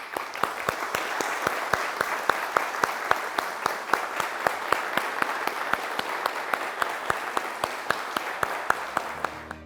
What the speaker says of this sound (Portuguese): eu vou pedir um grande aplauso para quem trabalhou e para quem está trabalhando até hoje